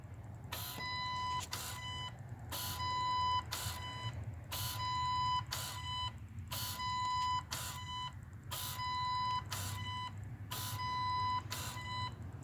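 A 2012 Kia Sorento with a 2.4L engine and a newly replaced intake manifold idles in a low, even hum, while a loud electronic chime beeps in regular paired bursts above it.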